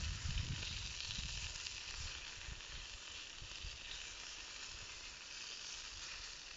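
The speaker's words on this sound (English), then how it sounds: "Oh ho, sizzle! Does that sound like Al" Steady crackling sizzle of food frying in a pan, continuous and fairly close, with a low rumble underneath and no talking.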